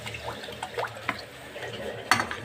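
Water splashes into a cooking pot on a gas stove for Maggi noodles in a home kitchen, with short faint pouring sounds and a sharper metallic clink near the end.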